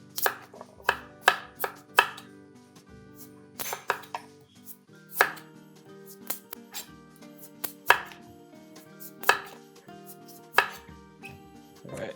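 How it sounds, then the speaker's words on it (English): A knife slices the skin off a butternut squash being prepared for bisque: crisp, irregular cutting knocks against a board, close and fairly loud, with no voices. "I'm gonna slice that skin."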